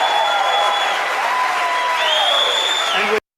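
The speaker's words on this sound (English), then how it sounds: "The totally normie-con, Trump-hating establishment crowd there cheering for Marco Rubio." A debate audience erupts in loud, sustained cheering and applause for Marco Rubio, a dense roar of clapping and shouts that cuts off abruptly.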